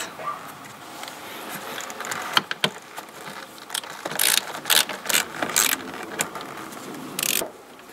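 A ratchet fitted with a 7 mm socket turns a screw inside a BMW E36 while the heater blower is being replaced, giving bursts of quick, close metallic clicking, louder in the second half, with some handling clatter in between.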